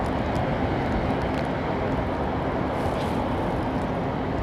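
Jet airliner at Heathrow rotating and lifting off the runway, a loud, steady broadband engine roar with a low rumble that holds constant throughout, close by and with no voices.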